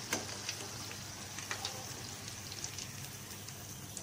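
Potato smiley shapes fry in hot oil, a steady faint sizzle with scattered soft pops and crackles, continuous and without any talking.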